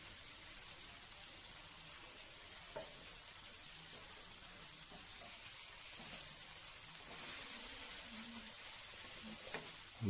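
Poppy seeds and homemade masala frying in a pan, a soft, steady sizzle with occasional light stirring clinks, fairly quiet and continuous without speech.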